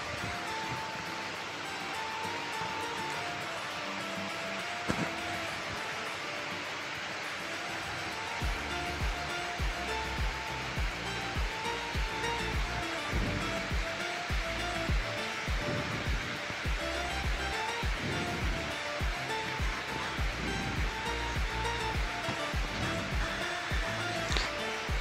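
A pan of sugar and water syrup boils hard, producing a continuous rushing, bubbling hiss that stays loud and even throughout, with faint melodic tones running underneath.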